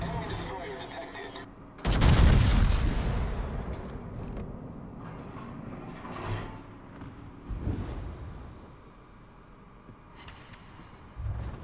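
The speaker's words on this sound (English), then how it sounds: "Shots from the Richelieu, they miss." Heavy naval guns of the French battleship Richelieu firing in a warship game, a loud booming salvo followed by a few softer distant blasts and rumbles.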